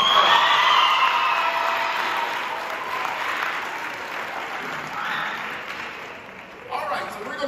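Audience applause for a middle school cross-country runner at a team awards gathering, strongest at first and gradually thinning out, with a few voices and cheers mixed in near the end.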